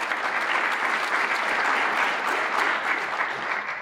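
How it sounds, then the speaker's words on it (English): A crowd applauds at a business announcement event, a dense, even roar of clapping hands that stays loud and continuous throughout, then tapers slightly at the end. "Round of applause."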